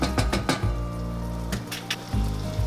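Chopped onions cooking in melted butter in a pot for a creamy pumpkin and coconut soup, giving a steady close sizzle with a few clinks of a utensil against the pan.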